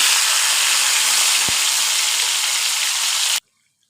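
Saag greens dropped into hot oil with golden sliced ginger, giving a loud, dense, continuous sizzle and hiss close up, with a single sharp tap partway through, then an abrupt cut to silence.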